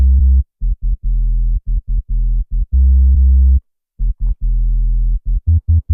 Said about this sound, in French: Il nous faut un sub que j'ai rajouté et que j'ai créé à l'intérieur de Serum